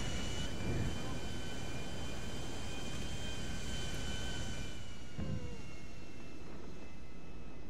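Airplane engine in a video game dogfight with rocket launchers, a loud continuous roar holding steady throughout with a couple of brief whooshes passing by.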